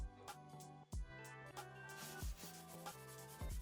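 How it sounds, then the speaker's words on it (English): Wood being hand sanded with coarse 40 grit sandpaper on an old table, a steady close scratching rub with quick back-and-forth strokes throughout. "I just went to hand sanding. I used a coarser 40 grit sandpaper"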